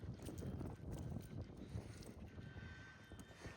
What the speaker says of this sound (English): the wind's picked up too much